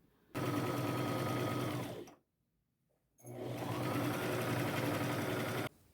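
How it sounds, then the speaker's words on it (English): A sewing machine stitching a chiffon scarf with lowered thread tension runs in two steady, close whirring bursts separated by a short silent pause. "When I sew chiffon, I turn my tension down to a lower number."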